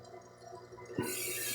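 Water switches on over a grinding wheel used to polish obsidian, a faint machine hum giving way about midway to a sudden, brighter hiss of spraying water that continues steadily.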